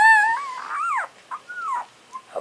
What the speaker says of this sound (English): she's doing big yawnies